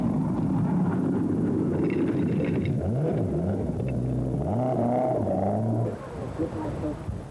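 Ford Escort rally car on the 1984 Scottish Rally, its engine note rising and falling through gear changes as it drives past, loud and continuous with faint background noise.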